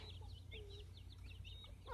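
A black hen clucks softly in a quick series of short, faint calls at close range, with a thin background hum and no talking.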